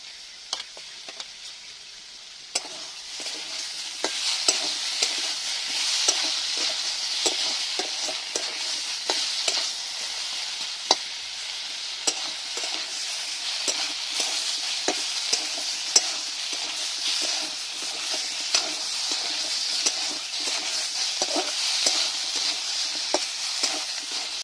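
Tomato and ground ginger-cumin paste fry in a pan for vegetarian Bengali cabbage curry, giving a steady, close sizzle. Frequent clicks and scrapes of stirring run through it, with no talking.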